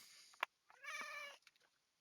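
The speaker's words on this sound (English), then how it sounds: "I don't know if you hear my cat in the background." A cat meows once in a drawn-out, faint call in the background, preceded by a brief click, with quiet surroundings.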